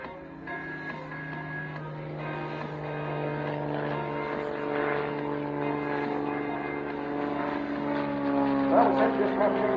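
A Bulldog propeller aircraft flies an airshow display at RAF Waddington, its engine droning with a steady harmonic tone that rises and grows louder as it passes, with an announcer speaking over it.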